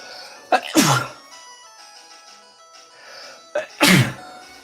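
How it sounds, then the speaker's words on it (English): Two loud, close sneezes a few seconds apart, each with a short breathy intake before the burst. "Oh, I gotta sneeze now."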